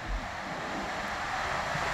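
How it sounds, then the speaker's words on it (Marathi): A strong monsoon wind and crashing sea waves roar together on the Ratnagiri coast by Ratnadurg fort, forming a dense, unbroken rumble with gusty noise throughout. "पाऊस चालू झाल्यामुळे मान्सून विंड अगदी जोरदारपणे वाहत आहे।"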